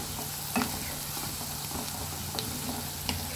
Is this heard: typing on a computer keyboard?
no